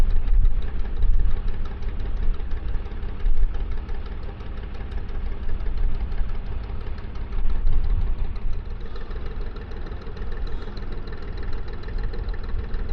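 A narrowboat engine chugs at a steady beat while cruising the River Thames after dark, a close, low, throbbing rumble with slight swells in strength throughout and no talking.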